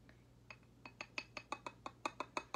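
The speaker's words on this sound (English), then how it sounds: "So I'm just going to take my candle holder." Glass candle holder picked up and handled, giving a run of about a dozen light clinks and taps that quicken and grow louder toward the end, close and clear over a faint steady hum.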